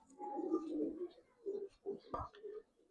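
Soft, low cooing of Giribaz pigeons in short repeated phrases, fairly quiet and close, with a brief knock partway through.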